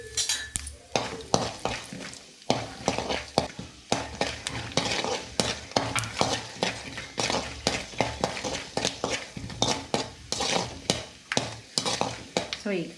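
Peanuts sizzle in hot oil in a pan with turmeric while a spoon stirs them, scraping and clinking against the metal in a steady, repeated rhythm, close up and without talk.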